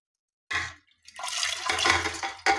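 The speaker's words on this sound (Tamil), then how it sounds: "இப்போ இந்த அரிசிய வந்து இதுக்குள்ள கொட்டப் போறேன்." Dry Mappillai samba rice grains pour into water in two bursts, a short rush then a longer hissing cascade, close by with no talking.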